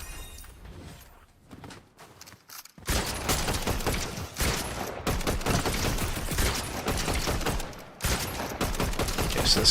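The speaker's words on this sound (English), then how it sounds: "this AR's hip fire is terrible" Assault rifle hip fire in Fortnite: a rapid run of loud shots after a quieter opening, continuing steadily with a brief break near the end.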